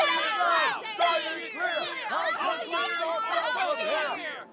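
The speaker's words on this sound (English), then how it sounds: "Crowd's coming in, and they do not look happy." An angry street mob chatters and shouts in the Love Esquire video game, a dense babble of overlapping voices held loud and close throughout.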